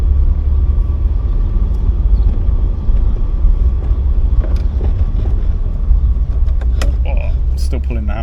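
A janky, overheating Ford Cortina's engine runs while driving, a loud low steady rumble with cabin creaks and rattles, and someone talking over it.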